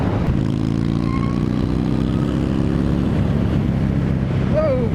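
A Harley-Davidson LiveWire electric motorcycle pulls away and speeds up, its faint rising motor whine buried under heavy, constant wind rush over the microphone.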